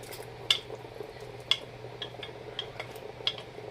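Bacon is dropped into a pot of beans and onions on a stove, with a few sharp metallic clinks and scrapes of a utensil against the pot over a faint low sizzle.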